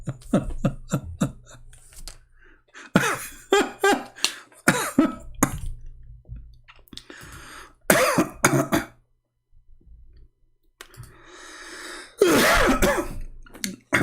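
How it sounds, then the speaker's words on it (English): Repeated throat clearing and harsh coughs from one nearby person, coming in clusters with short silent gaps and a few breaths. "I apologize if I cough."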